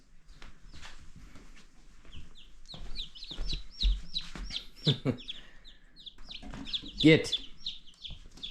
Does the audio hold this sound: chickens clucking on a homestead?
yes